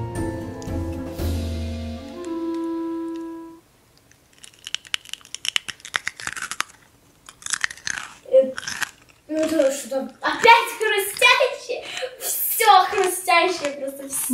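After a brief musical tone and quiet, someone crunches and chews a pickled cucumber close to the microphone, with wet bites and brief talk mixed in.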